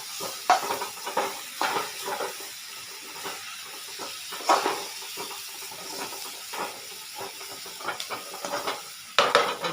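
Potatoes and tomatoes with turmeric, chilli and cumin powders frying in a pan, a steady close hiss and sizzle broken by repeated scraping bursts of stirring.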